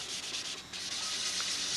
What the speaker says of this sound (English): Step 3, sanding the silver.